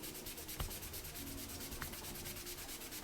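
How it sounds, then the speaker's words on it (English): A wet magic eraser scrubs a cork fishing rod handle in a soft, continuous rubbing hiss, quiet and close, with a couple of faint clicks. "you take your magic eraser, and it's good and wet, and I'm just going to start scrubbing it."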